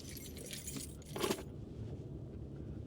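Keys jangling alone for a few seconds, a bright metallic rattle with a sharper clink burst in the middle before it cuts off.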